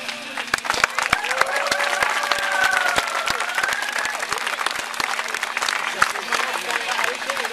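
A crowd at a talk on resistance to Canadian tar sands breaks into applause, sharp individual claps standing out over a continuous wash of clapping, with some voices and faint cheering mixed in.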